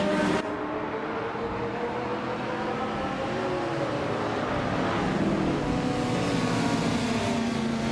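Race cars, among them a 1973 Mazda RX-3 GT, roar around the Shanghai circuit in a steady, loud engine drone whose pitch rises and falls as they accelerate and shift, with no voices.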